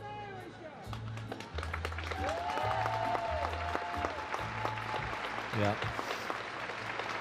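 An arena crowd applauds steadily at a ladies' free skating competition at the Rostelecom Cup, a broad wash of clapping with a voice briefly speaking over it and whistles and a low rumble mixed in.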